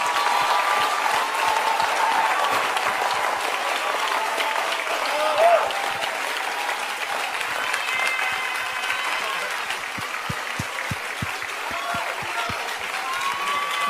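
A church congregation claps along during a lively service, a steady rhythmic wash of hands under continuous talking from the preacher, with regular clap accents through the passage.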